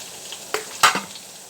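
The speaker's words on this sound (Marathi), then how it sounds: "मस्त हे ना मिश्रण चांगलं भाजायचं तेलामध्ये" A ground paste of coconut, garlic, ginger and coriander fries in oil, with a soft sizzle and two quick stirring scrapes in a short, close burst without speech.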